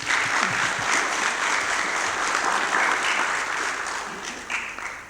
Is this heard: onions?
no